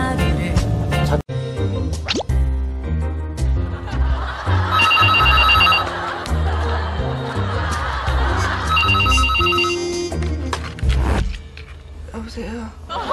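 A telephone rings for a morning wake-up call on a Korean variety show, with bright repeated trills amid background music, laughter and chatter.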